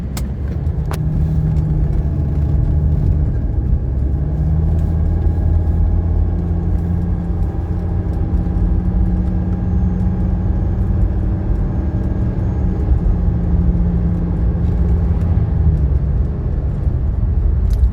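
A 1985 Mercedes 300D with 35,000 miles drives along, heard from inside as a steady, loud low engine drone with road rumble that holds even throughout.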